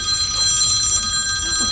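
A telephone rings with a bright, steady electronic trill that is loud and close and has no talk over it.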